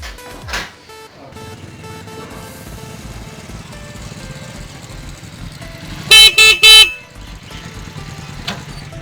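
A motorcycle engine runs under three quick, loud horn toots that come close together near the end, with a rough engine drone throughout.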